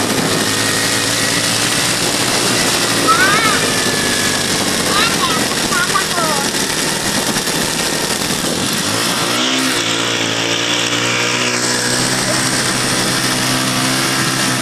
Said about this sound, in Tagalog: Mapapansin nyo na lang guys sa ugong ng makina